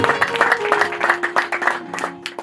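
A group claps in a steady rhythm, the beats bunched in quick pulses, with a sustained tone humming underneath.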